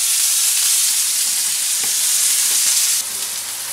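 Turmeric powder frying in hot oil gives a steady, close sizzling hiss that runs unbroken and drops slightly in level near the end, with no talking over it.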